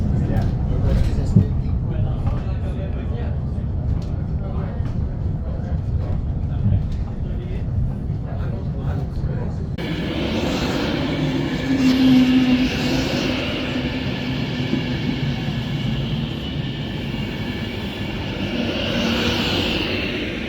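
Airport ambience with aircraft, a steady loud rumble and whoosh of engines and moving vehicles that shifts to a broader roar halfway through, with some indistinct talk.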